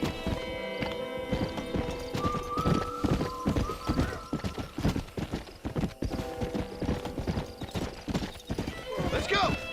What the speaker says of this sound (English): dá pra pular com o cavalo